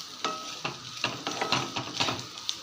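Potatoes frying crisp in a pan for a Thanjavur-style potato fry are turned over with a spatula, the sizzle broken by repeated scraping strokes, close and moderately loud, with no talk.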